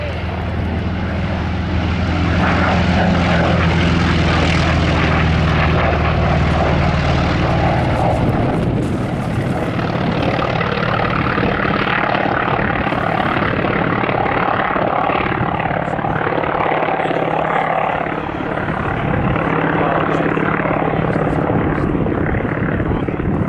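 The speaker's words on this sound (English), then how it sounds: "So here's the Corsair." A WWII Corsair fighter at an air museum's World War 2 weekend, its piston engine and propeller roaring loud and steady throughout, with the pitch shifting slightly as it runs; a voice can be heard faintly underneath.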